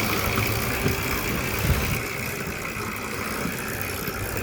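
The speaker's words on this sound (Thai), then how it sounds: "เดี๋ยวเฮามาเบิ่งโม่ตอนนี้เพิ่นใส่หินเข้าไปแล้ว" A concrete mixer runs at a block-making factory with stones loaded into its drum, giving a steady, loud, rumbling mechanical roar that holds without a break.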